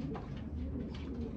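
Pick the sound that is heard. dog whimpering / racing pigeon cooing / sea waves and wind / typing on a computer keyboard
racing pigeon cooing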